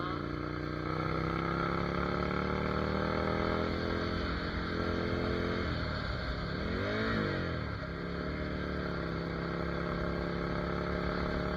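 A Ducati Monster 797 motorcycle is ridden under engine braking, a steady near rumbling drone with rising and falling revs and a brief pitch sweep midway.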